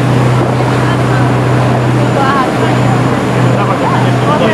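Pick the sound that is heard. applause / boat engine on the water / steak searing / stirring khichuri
boat engine on the water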